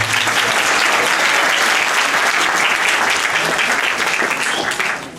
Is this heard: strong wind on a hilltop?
no